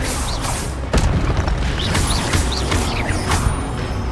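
An Expelliarmus spell cast in Hogwarts Legacy, a busy run of magical crackles, creaks and whooshing bursts with a sharp impact near the start, fairly loud and without speech.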